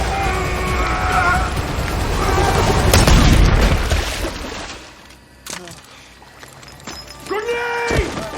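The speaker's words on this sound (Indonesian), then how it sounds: "setelah ledakan bom tadi" Bomb explosion in a war film: a heavy rumbling boom swells and peaks, then debris and impact sounds follow, with voices speaking over the later part.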